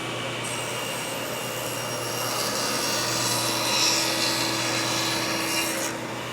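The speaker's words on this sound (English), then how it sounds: "This one here, I'll use the panel cutter." A panel cutter saws through the wood of a charcuterie board in one continuous, steady cutting run, close and fairly loud, with the pitch shifting slightly as it moves along the cut.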